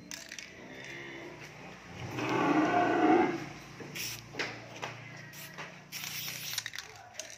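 Cattle at a cattle farm with muscular bulls, a loud mid-distance moo swelling in the middle among scattered shuffling and knocking sounds, with occasional farm noise.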